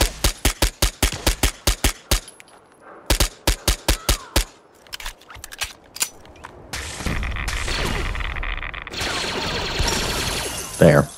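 Rapid bursts of blaster fire in Fallout 4, sharp repeated shots in quick volleys separated by short pauses, followed by a longer stretch of louder rumbling combat noise.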